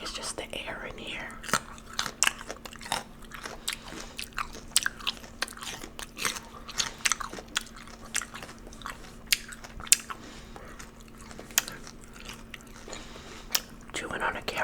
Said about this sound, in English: Chewing on a carrot.